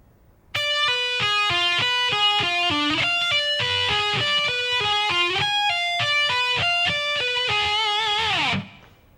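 A distorted electric guitar plays a fast run of arpeggiated single notes in a lick at a slow practice tempo. The notes are clear and steady for about eight seconds, then cut off sharply, with no voices.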